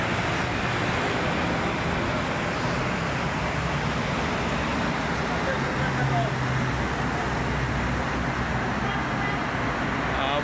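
Heavy street traffic on a built-up city road, an unbroken roar of many passing vehicles that stays loud throughout, with indistinct voices now and then.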